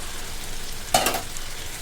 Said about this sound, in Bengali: তো এইভাবে আমি ধীরে ধীরে কষিয়ে নেব।